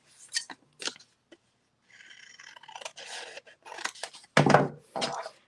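Scissors snip through paper and fabric on a sewing journal page, a series of crisp, close cuts and rustles with short pauses between bursts.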